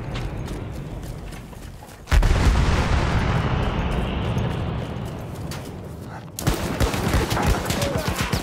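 Heavy booming cannon blasts and rumbling artillery explosions in the video game Battlefield fill the scene, with a sudden loud burst partway through and continuous battle noise after.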